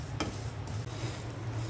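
Mung dal is fried and stirred in a pan for khichuri, a soft, steady sizzle with one brief scraping stroke of the spoon near the start.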